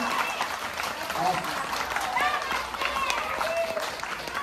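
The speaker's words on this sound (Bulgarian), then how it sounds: "Чуваме силни аплодисменти" Loud audience applause at a letters festival celebration, a steady wash of clapping heard from the room, with voices and whistles rising over it throughout.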